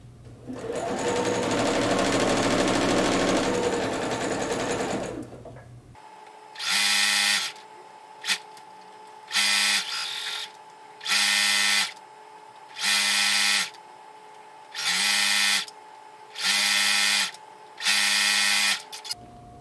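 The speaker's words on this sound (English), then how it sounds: "And I'm going to sew my pieces at 1/4 of an inch seam allowance." Sewing machine stitching quilt pieces for a star quilt block at a quarter-inch seam, in six or seven short whirring bursts separated by silences, after a steadier noisy stretch at the start.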